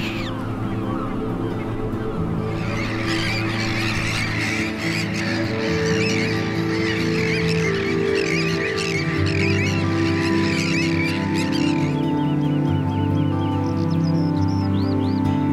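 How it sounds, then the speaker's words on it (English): A colony of avocets and other seabirds calls continuously in Denmark, with dense, overlapping honking and squawking cries that stay loud and close throughout. "This delicate bird with the unusual upturned bill is an avocet."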